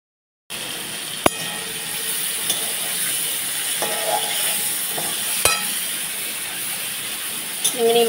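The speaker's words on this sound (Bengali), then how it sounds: "তো চলো ট্যাংরা মাছটা আস্তে আস্তে ফুটতে থাকুক" A pot of Bengali tangra fish curry simmers with a steady soft bubbling hiss, broken by a few faint clicks and clinks from the stove.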